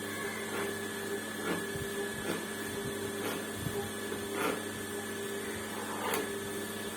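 A sewing machine stitching the lining of a blouse, a steady mechanical whir over a constant hum with soft periodic knocks roughly every second, close and fairly quiet, no talk.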